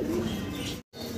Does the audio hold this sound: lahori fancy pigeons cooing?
yes